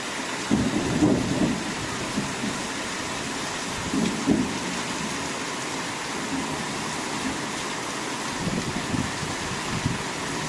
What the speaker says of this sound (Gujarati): જોરદાર વરસાદ અમારે ચાલુ થઈ ગયો છે. વીજળીના કડાકા ને ભડાકાનો